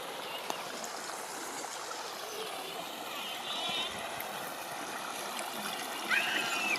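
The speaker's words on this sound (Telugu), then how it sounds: "వాటర్ కూడా ఎట్లా వస్తుంది చూడండి ఫ్రెండ్స్" Water runs through a village farm channel with a soft, continuous trickle and gurgle, faint and steady, with occasional light splashes.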